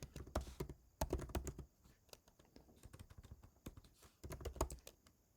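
Rapid, uneven clatter of keys on a computer keyboard, typing in bursts with brief pauses, close and fairly loud with no voices.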